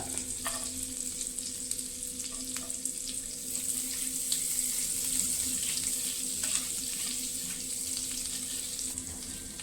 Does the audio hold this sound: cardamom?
yes